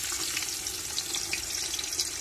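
Onions drop into hot ghee and spices and sizzle in a pan cooked on a rooftop: a bright, continuous frying hiss with small popping spatters, close and steady, with no talk.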